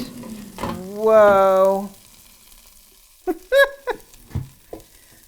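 Asparagus sizzles and rattles as it is shaken in a Cosori air fryer basket: a short loud burst of frying hiss, then quieter crackles and a few clattering knocks, with someone exclaiming briefly.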